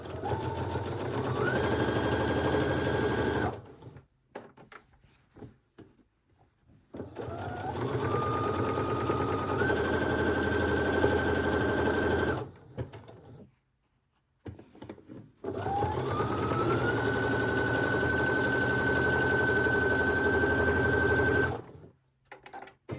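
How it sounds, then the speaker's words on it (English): A sewing machine stitches a quarter-inch seam on a quilt-as-you-go placemat in three steady runs of whirring stitching, each a few seconds long and separated by short pauses, close and clear with no talk. "And we're going to stitch 1/4 inch again down this side."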